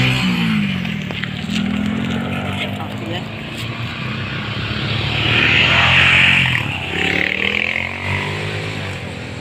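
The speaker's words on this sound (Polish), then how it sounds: "Czekajcie, muszą motory przyjechać." Motorcycles arriving at an abandoned site, their engine drone rising and swelling to a peak midway before easing off, loud and continuous with voices talking over it.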